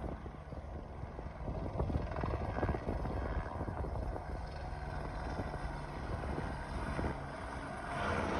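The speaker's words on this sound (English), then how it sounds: "I've never seen two helicopters if there wasn't like a pursuit of some kind" Police-type helicopter circling low over a city street, heard from a rooftop as a faint, steady rotor drone mixed with wind buffeting the microphone.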